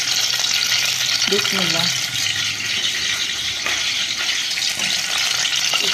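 Onions dropped into hot ghee on a gas flame, giving a steady, loud frying hiss that fills the whole stretch, with a brief spoken word near the start.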